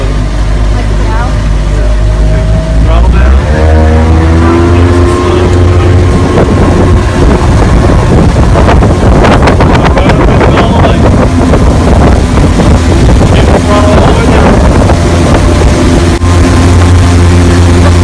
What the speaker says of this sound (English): I want you to give it full throttle.